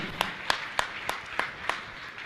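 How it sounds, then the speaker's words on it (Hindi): An audience claps in honour of guests at a religious gathering, seven sharp, evenly spaced claps ringing out in a slow rhythm over a soft background hum. "आप इनके सम्मान में जोरदार ताली बजाकर इनका सम्मान करें"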